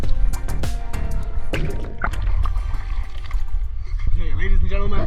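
River water swirling and lapping close around someone floating downstream through Papua New Guinea, a steady wet wash with drips and splashes, with a voice over it.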